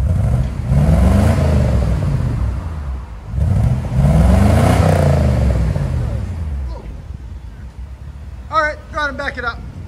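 A 1980 Mercedes 450SEL with a 4.5L V8 and Borla Pro-XS exhaust revs twice, rising loudly with a deep exhaust rumble and then falling back to idle, with a short burst of chatter near the end.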